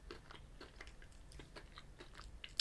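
Close bites and chews into Tony's Chocolonely milk chocolate with caramel sea salt pieces produce a steady series of crisp, crackly crunches, quiet and near, with no talking.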